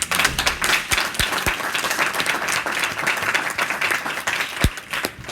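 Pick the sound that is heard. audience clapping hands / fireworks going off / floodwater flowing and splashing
audience clapping hands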